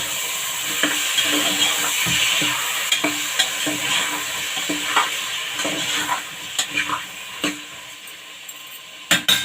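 Chopped cucumber and tomato fry in a hot pan for a curry, with a steady broadband sizzle and scraping stirs, plus sharp utensil clinks against the pan that grow more frequent toward the end.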